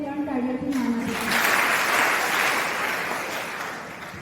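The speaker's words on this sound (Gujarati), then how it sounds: "તો આપણે વિદ્યાર્થીઓને 3 તાળીઓથી માન આપીશું." An audience at a school Ganesh celebration claps for students' dance: a presenter speaks briefly, then broad, even applause from many hands rises and fades gradually.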